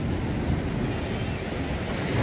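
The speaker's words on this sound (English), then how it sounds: "All the waves all come up through there." Ocean waves surging up through a rock pool on a beach, a continuous close rushing wash of water with wind noise, no talk.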